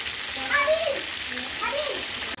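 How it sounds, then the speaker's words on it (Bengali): Rohu fish fries in a pan with a steady, close hissing sizzle, while a voice talks faintly over it. "মাছটা আমার একদিকে ভাজা হয়ে গেছে আর একটা দিক হয়ে গেলে আমি মাছটা নামিয়ে নেব"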